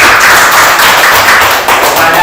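A classroom of students claps together in dense, loud applause that fills the short moment and carries on without pause.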